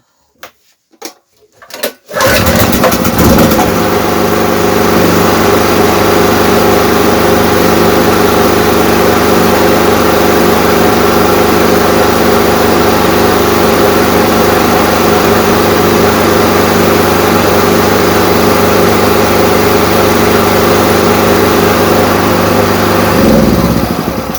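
A petrol generator rated up to 3 kW, one that had been backfiring, sputtering and failing to start, fires after a few short pulls and then runs loud and steady close by, with no one talking.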